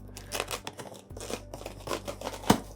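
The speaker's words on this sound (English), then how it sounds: "So I'm using the scissors because I can" Scissors snip and scrape through a cardboard box holding a sewing machine in several uneven cuts, close by, ending with a sharper crunch; no one speaks.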